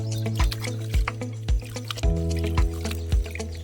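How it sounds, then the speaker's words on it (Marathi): Freshly picked drumstick tree (moringa) leaves being washed by hand in water; close, repeated sloshing splashes come roughly every half second in an uneven rhythm, with no voices. "गोळा केलेली पाने धुवून स्वच्छ घ्यायची आणि वाळायला टाकायची।"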